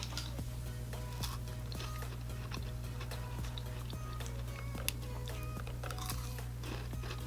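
Someone crunches and chews chocolate during a makeup session, with close, irregular biting and crunching clicks over a steady low hum and no talking.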